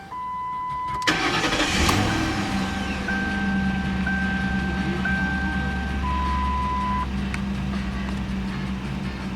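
A 2007 Ford Crown Victoria P71 police-package sedan cranks and catches about a second in, then settles into a steady, close idle while warning chimes beep in a repeating pattern over the engine; no one speaks.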